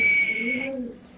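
A fancy pigeon cooing in a loft, one short, soft coo heard up close over a faint high-pitched background tone.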